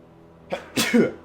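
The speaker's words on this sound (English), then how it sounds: "I gotta sneeze." A single person's sneeze, with a short sharp intake followed by a louder, breathy burst and a trailing vocal catch, close and clear against a quiet background.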